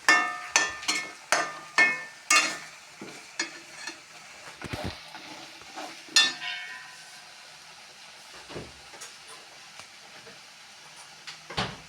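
Food frying in a pan is stirred in quick, close scraping strokes over a soft sizzle; the stirring thins out after a few seconds, leaving a quieter hiss with occasional knocks.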